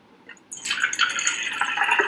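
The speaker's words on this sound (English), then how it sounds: "pour out this water." Water poured out of a container during a tomato rinse comparison with Kangen water, starting with a few drips and then a steady close splashing pour lasting about two seconds.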